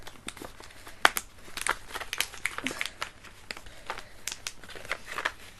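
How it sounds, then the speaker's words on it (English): Maybelline makeup packaging being ripped open, a run of crisp crinkling and tearing bursts with uneven rhythm, close and fairly loud, with no voices over it. "So let me just open this packaging if I can."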